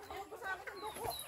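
Chickens cluck in soft, quick bursts on a backyard livestock plot, faint and somewhat distant, with several overlapping calls across the moment.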